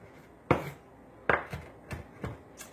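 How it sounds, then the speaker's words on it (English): A knife chopping fresh herbs finely on a board, six or so crisp taps in an uneven rhythm, close and fairly quiet, with no speech. "So chop up your herbs, and you really want them to chop fine."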